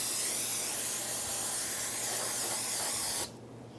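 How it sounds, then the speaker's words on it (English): Brake cleaner sprayed onto a new brake rotor for a 2015–2024 Jeep Renegade, one continuous close aerosol hiss lasting about three seconds that cuts off abruptly, leaving near silence. "I'm just going to take some parts cleaner, brake clean, and I'm going to take that packaging surface oil right off it and any grime"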